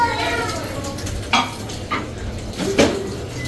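Chips frying in a pan, a continuous soft sizzle with a few sharp clinks and scrapes of utensils against cookware, no talking.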